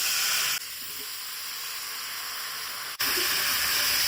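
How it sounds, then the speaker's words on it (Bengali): Mango pieces sizzle steadily in hot oil tempered with panch phoron, a loud continuous frying hiss that briefly dips as more fruit drops in, then surges back. "এর আমগুলো আমি এই তেলের মধ্যে দিয়ে দেবো।"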